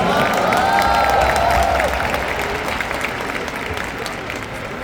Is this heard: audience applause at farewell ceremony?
yes